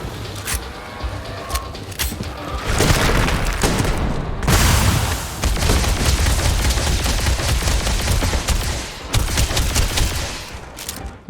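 Rifle fire in the video game Starfield rings out in rapid bursts and single loud shots, with booming impacts filling the scene almost continuously, without talk.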